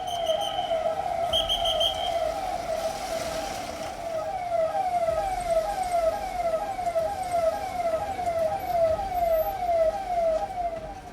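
An ambulance carrying donor organs from Kochi races along the road under police escort, its wailing sirens repeating in fast rising sweeps, loud and close, with traffic noise beneath and no talk.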